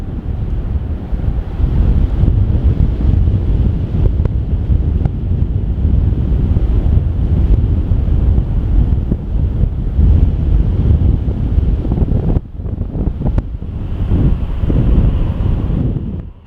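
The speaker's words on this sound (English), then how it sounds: "It is certainly blowing a gale here, and you can probably hear it from the mic." A gale-force wind buffets the microphone with a loud, continuous low rumble and roar that dips briefly near the end, heard outdoors at an airfield where aircraft are landing.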